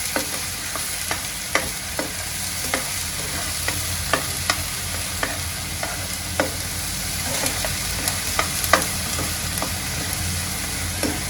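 Spice paste for a village-style Satara mutton curry fries in hot oil, a steady sizzle broken by regular scraping strokes of a spoon stirring it, close and moderately loud with no voices.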